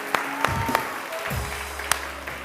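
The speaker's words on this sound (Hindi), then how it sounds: "उरूज के लिए भी बहुत सारी तालियां बजाइए जी।" A studio audience on a televised morning show claps over a hiss of room noise, with a few sharp, separate claps standing out from a softer spread of applause.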